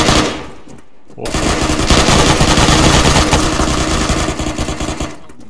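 Sustained rapid gunfire from a video game set around a bridge assault, loud and continuous bursts for several seconds after a brief quiet gap, with no talk over it.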